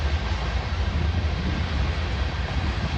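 A northbound gravel train rolls past at Stassney Lane as a dense, steady roar of wheels and rumbling freight cars, loud and close throughout with no pauses.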